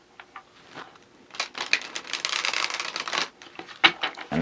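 Bursts of riffling card shuffles, a few separate passes, the longest a dense rustling stretch in the middle, fairly close and moderately loud.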